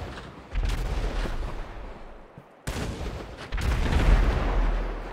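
Gunshots in GTA 5 during a pirate-themed roleplay near a beach, heavy booming blasts in loud rapid bursts, dropping away for a moment before a fresh, even louder volley.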